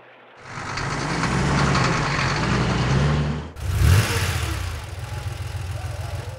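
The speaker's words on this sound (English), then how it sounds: "Garbage truck." Garbage truck engine idling loudly with a heavy low rumble, surging briefly midway, then settling into a steady, slightly pulsing idle.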